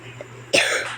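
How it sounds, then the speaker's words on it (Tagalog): A single harsh cough bursts out midway after a quiet stretch, loud and close, with a raspy throat-clearing tail. "Grabe yung ubo ko"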